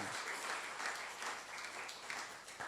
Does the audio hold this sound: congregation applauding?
yes